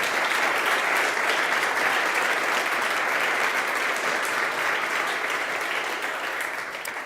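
A large audience at an event gives sustained, dense applause that stays loud throughout and tapers slightly at the end.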